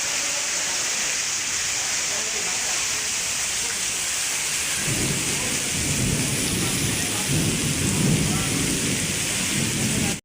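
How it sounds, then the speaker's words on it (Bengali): Heavy rain pours down steadily with a dense roar, and rolling thunder rumbles in partway through and continues low beneath the downpour. "দেখুন কত জোরে বৃষ্টি হচ্ছে।"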